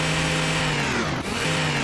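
Baldi's chainsaw in Garry's Mod, a steady, loud buzzing whine that runs nonstop with a brief dip midway.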